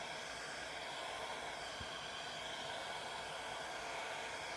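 A hair dryer blows steadily at close range, pushing alcohol ink across glossy cardstock, a constant breathy hiss with no talk.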